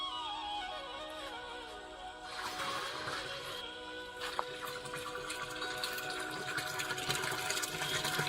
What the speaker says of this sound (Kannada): ಅದ್ರ ಜೊತೆಗೆ 12 ಲೀಟರ್ ಹಾಲನ್ನು ಹಾಕ್ತಾ ಇದೀವಿ.